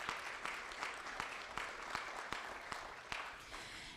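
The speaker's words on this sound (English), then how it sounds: "So big round of applause for NECIC." An audience claps at a candidate night event, steady applause with a few sharper claps standing out, sustained throughout at moderate loudness with no voices over it.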